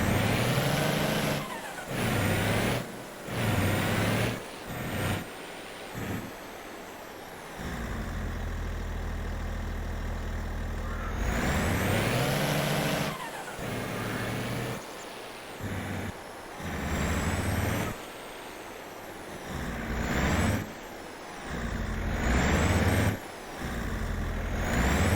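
Truck hauling a water tanker trailer in Farming Simulator 22 video game: a heavy diesel engine idles and revs under repeated hissing air-brake bursts and clanks, loud and continuous.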